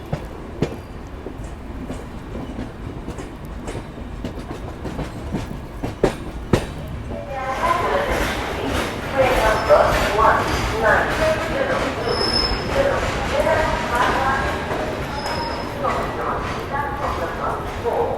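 Passenger train pulling into Mathura Junction railway station, with rumbling wheels, clanks and high metallic squeals growing louder in the second half, while people talk nearby.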